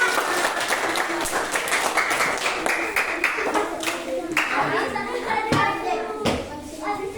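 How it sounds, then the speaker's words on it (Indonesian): Sustained applause from a class of children, steady clapping throughout with some voices mixed in, fairly close and lively. "Tepuk tangan untuk kita semua."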